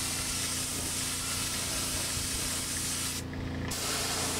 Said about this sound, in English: I try to get a little bit extra clear.